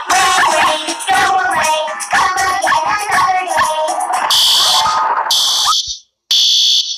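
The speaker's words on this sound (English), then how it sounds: "That's a fire alarm." A cartoon fire alarm rings loud and continuous, first under busy, cluttered sound and then alone as a harsh buzzing tone that cuts out briefly and resumes.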